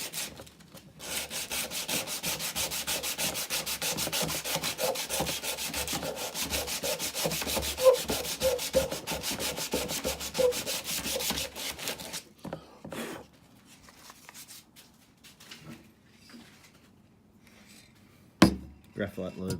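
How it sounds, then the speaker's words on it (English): A paddle board fin is rubbed with 100-grit sandpaper in steady, rapid back-and-forth strokes for about twelve seconds. The sanding is close and continuous, then gives way to quieter handling noises and a sharp knock near the end. "I'm going to just wrap this 100 sandpaper."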